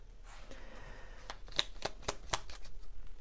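Playing cards shuffled for a Leo horoscope card reading: a run of crisp riffling snaps and soft slides, close and clear, with no talking.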